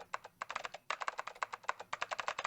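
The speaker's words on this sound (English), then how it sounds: "Typing sounds intensify." Rapid keyboard typing from the video game 999 (9 Hours 9 Persons 9 Doors), a dense flurry of quick, crisp key clicks in short bursts with brief gaps, close and moderately quiet.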